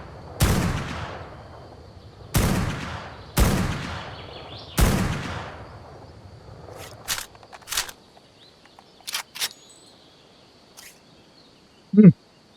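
Gunfire in the game ARK Survival Ascended: four loud, sharp shots with ringing tails spaced a second or so apart, then several quicker, fainter bursts and a final crack.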